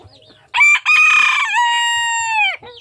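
A labuyo junglefowl rooster crows once, loud and close, a bright ringing call of about two seconds that holds steady and trails off, with faint background noise around it.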